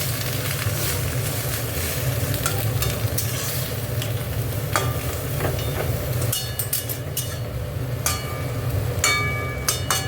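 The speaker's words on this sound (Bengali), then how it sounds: "একটু জল দিয়ে দিলাম, দিয়ে ডাঁটাগুলো যাতে একটু সেদ্ধ হয় ওই জন্য একটু জল দিয়ে দিলাম।" Gourd-leaf stalks simmer in a hot pan after a splash of water, giving a steady, close sizzle with occasional utensil scrapes and light clinks throughout.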